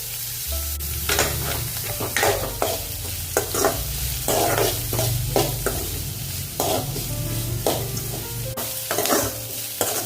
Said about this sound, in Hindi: इसको भी हम थोड़ा सा भूनेंगे, प्याज को भी कलर आने तक।